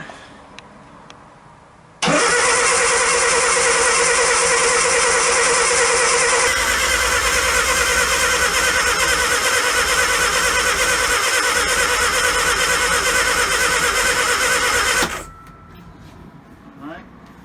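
A Classic Mini engine starting up for the first time after restoration: a loud crank catches into a rough, steady idle that holds for about thirteen seconds before cutting off, with faint room sound before and after.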